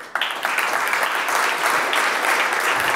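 Applause from a congress audience after a political panel segment: a loud, full burst of many people clapping that starts abruptly and holds steady, with no voices on top.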